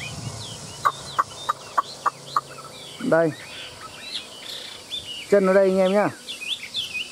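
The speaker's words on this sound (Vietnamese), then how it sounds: "Đây là nó hót một mình các bác nhá." A caged Chinese hwamei songbird sings alone at midday, giving a run of sharp, evenly spaced chirps followed by longer warbling, trilled phrases, with someone speaking briefly nearby.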